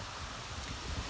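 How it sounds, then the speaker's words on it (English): Strong wind buffets an outdoor microphone, a steady low rumbling roar with gusty swells throughout, loud and close with no other sounds standing out. "it's super windy"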